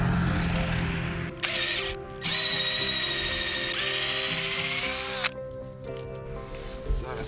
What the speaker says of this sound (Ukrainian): Зараз спробуємо просвердлити.